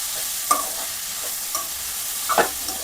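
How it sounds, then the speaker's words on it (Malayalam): Shallots for a beef dish sizzle softly in a pan, broken by a few sharp scrapes and clacks of a spoon stirring them, close and with no voices. "നമുക്കിതൊന്ന് ഇളക്കി കൊടുക്കാം."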